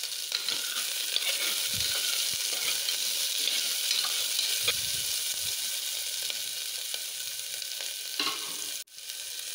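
Finely chopped onions frying in sesame oil in a pot for pressure-cooker mutton biryani, a steady close sizzle with occasional stirring scrapes and a brief pause near the end.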